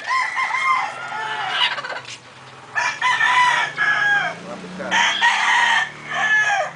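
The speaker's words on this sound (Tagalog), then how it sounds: "Mga chicken." Several chickens cluck and a rooster crows repeatedly close by at a Sabong stag farm in Caoayan, Ilocos Sur, bursts of squawking separated by short pauses.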